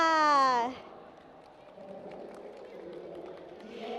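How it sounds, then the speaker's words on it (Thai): A brief voice at a speaking event gives way to a steady, moderate wash of audience applause that holds evenly for several seconds. "ขอเสียงปรบมือดัง ๆ เลยครับ"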